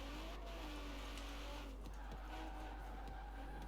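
A Peugeot 205 rally car in Forza Horizon 4 revs with a rising and falling engine note and some tyre noise, faint and continuous.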